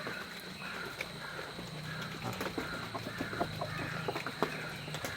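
A native hen clucking in a backyard coop, repeated short clucks and calls against a faint background of other birds and rural ambience, with no talking.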